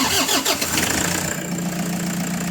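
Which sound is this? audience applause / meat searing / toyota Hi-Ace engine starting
toyota Hi-Ace engine starting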